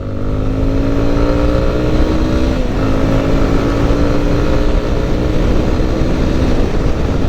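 A 2024 Yamaha XTZ 250 Lander ABS dual-sport motorcycle accelerates up close, pitch climbing, dropping briefly at a gear shift, then rising again under heavy wind rush.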